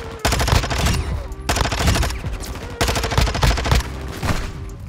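Rapid gunfire in a shooter video game comes in three loud, close bursts of roughly a second each, separated by brief gaps, with no talking.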